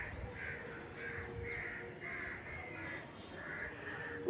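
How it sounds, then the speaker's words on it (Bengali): Crows caw in a steady series of about eight harsh calls at moderate distance outdoors, evenly spaced and clear over quiet background without speech. "যে কাকের আওয়াজ তোমরা নিশ্চয়ই শুনতে পাচ্ছ"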